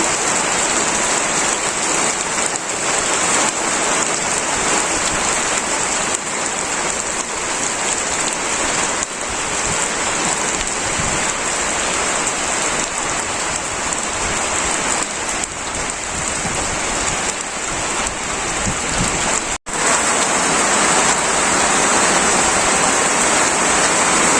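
Heavy rain pours down during a storm in a Bangladeshi village, a dense, steady hiss of drops on surfaces that continues loud and unbroken for over twenty seconds, with only a momentary dropout near the end.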